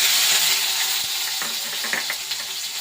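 Torn dried red chillies fry in hot oil with a steady hiss and scattered crackles and stirring clicks, close and continuous throughout.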